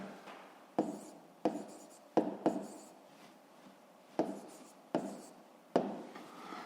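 Handwriting in a notebook while working a fifth-grade maths exercise, a series of close, distinct pen strokes and scratches with short pauses between them, no talking.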